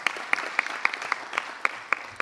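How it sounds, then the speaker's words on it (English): An audience at a community policing event claps for Mayor Becker, a short burst of lively applause with distinct sharp claps standing out in a quick, uneven rhythm. "Round of applause for Mayor Becker"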